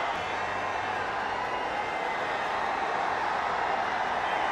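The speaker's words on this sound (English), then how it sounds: "And the crowd celebrating" Steady roar of a large cricket stadium crowd celebrating a wicket during a T20 international between India and Sri Lanka, a dense, continuous wash of cheering voices that holds at an even level throughout.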